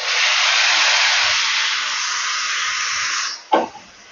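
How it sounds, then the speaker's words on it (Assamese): A loud, steady sizzle of tomato puree frying in a hot pan after onions, ending with a sharp clatter or scrape near the end. "ইয়াতে মই এই পিচি থোৱা বিলাহীখিনিও দি দিছোঁ"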